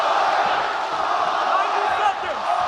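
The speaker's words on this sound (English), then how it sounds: "Crowd getting behind Holloway here late in round 2." An arena crowd at a UFC fight with Max Holloway roars in a dense, steady wall of cheering for about three seconds, with no clear breaks.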